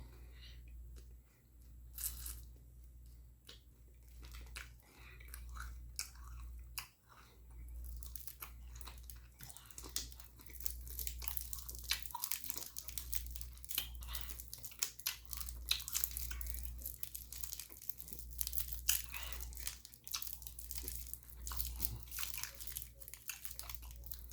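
Gum being chewed close to the microphone, with continuous wet smacking and clicking mouth sounds over a low background hum, no talk.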